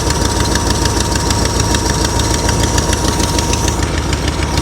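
1964 Mercury Marauder with a 390 V8 idling with a bad exhaust leak, a loud close steady rumble with rapid ticking pulses throughout.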